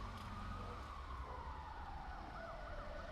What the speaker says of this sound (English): the hectic, hysterical wailing of multiple sirens in the distance